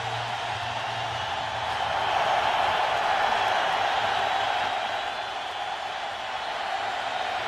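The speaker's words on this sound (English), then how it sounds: "As always, the crowd is loud here in Houston." A home crowd at Houston's football stadium during a Jaguars–Texans game produces a continuous, broad roar that swells slightly midway, heard from a distance as steady, dense noise without distinct voices.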